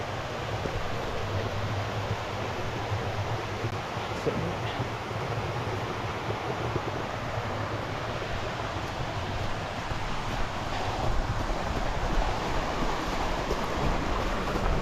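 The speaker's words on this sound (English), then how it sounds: "you can hear the water beating on the rock." Ocean water beats against rock beside a hiking trail, a steady, dense roar of surf holding constant throughout at moderate loudness, with no talking.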